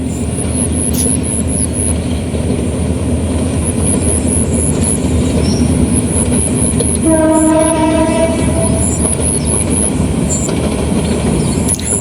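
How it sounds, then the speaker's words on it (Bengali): A train rushes past at high speed with a loud, continuous rumble and rattle of cars, and a horn sounds partway through before the roar carries on. "ট্রেনটা বিরাট স্পিডে যাইতেছে বাবা"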